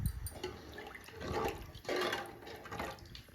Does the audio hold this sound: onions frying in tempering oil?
no